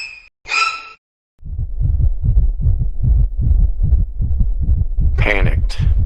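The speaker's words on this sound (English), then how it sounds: "heart pounding in my chest" Pounding heartbeat sound effect: a steady, loud series of deep thumping beats in a regular double rhythm, preceded and followed by brief breathy, sighing sounds.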